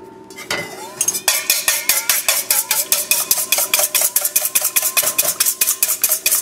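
A fork or whisk clinks briskly against a bowl, first beating an egg and then mixing a potato and spinach cake mixture in a fast, steady rhythm of close metallic taps.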